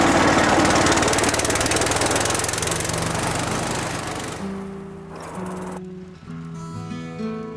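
A little red tractor engine chugs loudly and close at first, a dense rattling run that fades away, after which a few sustained tonal notes take over.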